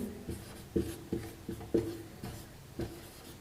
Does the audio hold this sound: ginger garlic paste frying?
no